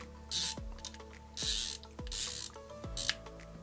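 Leupold Mark 5HD 5-25x56 scope turret being turned to reset zero, giving four crisp ratcheting clicks in quick bursts, close and clear with no talk.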